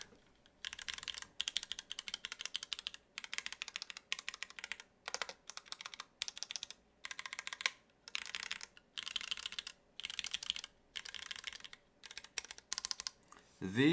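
Rapid bursts of clacking keystrokes from a mechanical keyboard with Cherry switches, close and crisp, coming in uneven rhythmic runs separated by short pauses.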